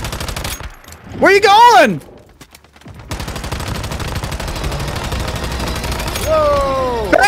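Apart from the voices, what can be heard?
turret gunfire in the video game Once Human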